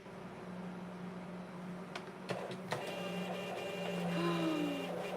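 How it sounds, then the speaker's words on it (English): A thermal printer prints a label with a steady low motor whir, a few faint clicks and ticks along the way, all close by with no talking. "I'm going to see what it looks like on the thermal printer."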